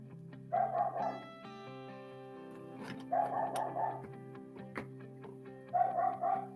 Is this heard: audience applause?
no